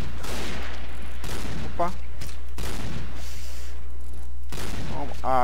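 Gunfire in the video game Point Blank comes as loud bursts of shots with sharp breaks between them, over a constant low hum, while someone talks briefly.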